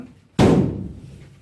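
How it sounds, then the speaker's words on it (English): A broken cardboard roll slapped once against a hard surface, giving a single loud, close, hollow thump with a short papery decay and no talk. "By that sound, I can tell that this is indeed a broken cardboard roll."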